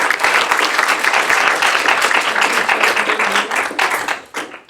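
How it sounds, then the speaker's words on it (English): Loud, dense audience applause at a livestreamed student government assembly, sustained and even before thinning out and fading toward the end. "Let's give them a round of applause."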